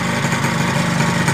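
A 120cc Honda Elite scooter with a stroker build runs close by, its engine holding a steady, loud, rough idle with a fast pulsing beat and no voices over it.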